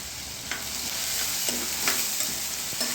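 Dense, close sizzling of spices tempering in hot oil, a steady bright hiss with a few soft clicks and pops.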